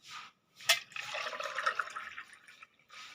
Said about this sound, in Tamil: ஒரு கப்பு அரிசிக்கு வந்து எவ்வளோ தண்ணி ஊற்றுற தெரியுமா